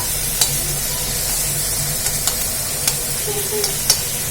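Fenugreek leaves frying in oil in a pan, a steady soft sizzle with a few sharp ticks and pops scattered throughout, no voices.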